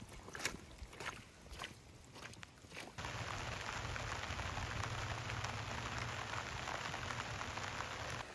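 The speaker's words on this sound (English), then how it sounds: "Hear the rain picking up?" Outdoors in an Alaska homestead garden, rain patters lightly with a few scattered drops, then the downpour suddenly thickens into a steady, dense hiss that keeps going without a break.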